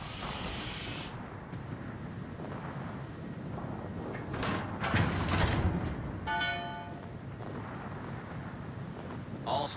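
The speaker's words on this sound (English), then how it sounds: "Smoke generator started." A smoke generator starting up aboard the Italian battleship Cristoforo Colombo in World of Warships, a steady broadband hiss and rush with mechanical clunks and a brief buzzing rattle partway through, continuous and close under the game's ambience.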